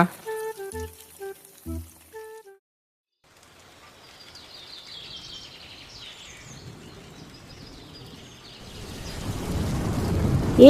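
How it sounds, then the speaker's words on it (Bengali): Heavy rain builds from a faint hiss into a loud, broad wash with rumbles of thunder, following a short musical passage and a moment of silence. "আজ দেখছি খুব বৃষ্টি হচ্ছে।"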